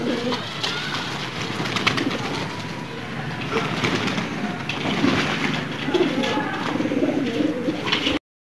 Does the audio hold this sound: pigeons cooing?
yes